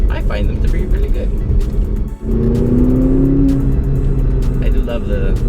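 A 2017 McLaren 570GT's turbocharged engine pulls hard under acceleration, a rising whir and growl building inside the cabin beneath steady road noise, with a brief dip as it shifts; someone talks over it.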